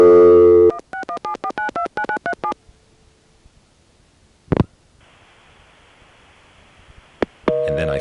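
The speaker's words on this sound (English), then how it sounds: "The 5-way call begins with my making a call to a low tone in Massachusetts." Telephone tones place a call through a 1983 1A ESS Centrex line to a low-tone number in Massachusetts: rapid DTMF digits beep in sequence, then a brief tone, a click, a hissing line, and a further burst of tones.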